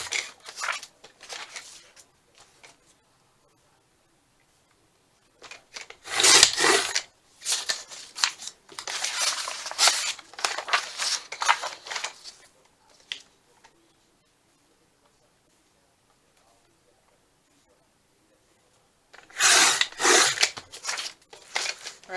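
Paper pages trimmed with a cutter for junk-journal tags, giving short bursts of scraping, rasping cuts separated by quiet pauses, close and fairly soft.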